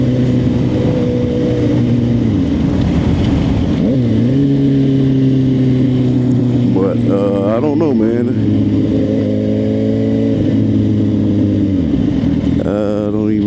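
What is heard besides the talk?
Suzuki GSX-R 750 motorcycle engine revving while riding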